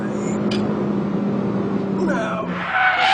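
A car understeers through a corner on a track, tyres scrubbing and squealing over a steady engine drone, loud and close, while a person talks over it.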